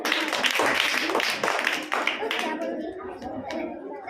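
Children clap together in bursts of applause inside a classroom, mixed with busy chatter and voices, the claps dense at first and thinning toward the end.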